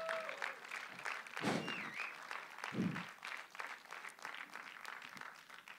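Audience clapping throughout a gathering, a steady broadband patter with a few louder bursts, joined by a whistle, continuing for several seconds.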